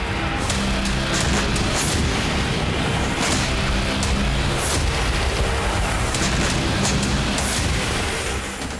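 A continuous, loud roar of rumbling blasts from Israeli air strikes near Beirut airport, with repeated heavy booms hitting one after another and no pause between them.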